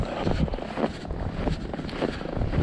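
Strong wind gusting outdoors in the snow, buffeting a nearby microphone with steady rumbling roar and irregular louder gusts throughout, no voices.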